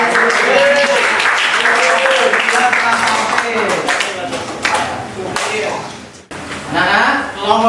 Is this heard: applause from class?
yes